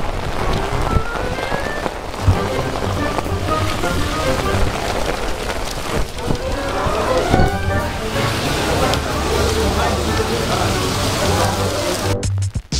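A heavy rainstorm in Tiradentes, Minas Gerais, makes a dense, constant hiss of rain pounding surfaces, loud and unbroken throughout, with a voice faintly heard under it.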